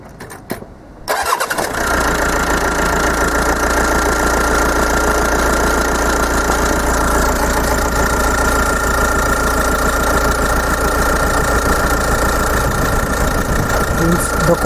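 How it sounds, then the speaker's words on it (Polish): A Fiat Ducato diesel engine cranks and catches after a second of near silence, then settles into a steady, loud, rattling diesel idle that continues unchanged. "Odpalę samochód"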